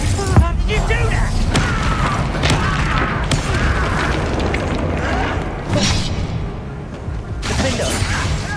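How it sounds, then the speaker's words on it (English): Bombarda blasting spell explosions in Hogwarts Legacy: loud, close booms and crashing impacts layered with game effects, while voices speak over the combat. "Bombarda, you can't stop us"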